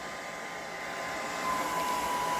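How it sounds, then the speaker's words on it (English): Steady airy whoosh of a hair dryer running continuously nearby with a bag over its end, and a faint whine that rises slightly partway through. "It's a bag. Put it over the end of the hairdryer."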